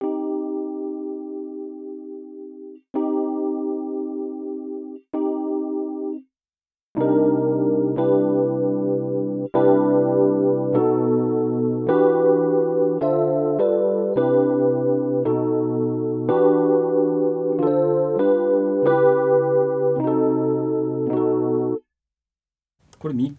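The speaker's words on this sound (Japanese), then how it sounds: "ここにドライブというのがあって、ここで歪み感がちょっと増えるブーストのようなものがありまして" OverLoud GEM MOD chorus dimension effect, modelled on the Roland SDD-320 Dimension D, on a sustained synth-like tone, with drive adding mild distortion; phrases of held chords start and stop, then a denser, brighter played passage runs continuously.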